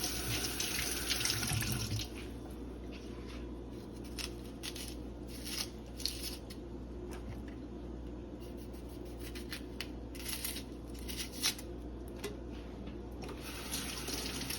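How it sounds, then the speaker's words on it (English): Tap water running over chopped onion in a kitchen sink for a raw vegan meal, a steady hiss of flowing water with scattered small clicks and rattles, close and continuous, with no talking. "And then we're gonna add the onion. All right, just rinse that off."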